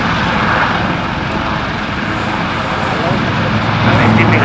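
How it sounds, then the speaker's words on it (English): Aircraft fly past at the 2025 Cosford Airshow with a loud, sustained engine roar that swells and then fades slightly, while a commentator speaks over a public address system. "Coming up here, aircraft transiting rearwards"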